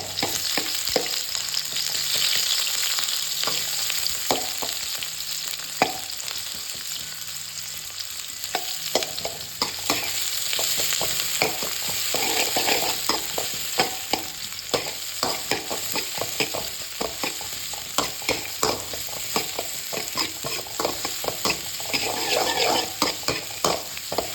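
Sliced onions sauté in hot oil in a pan for a chicken water curry, with a constant sizzle broken by frequent scraping and clinking as a spoon stirs them. No one speaks.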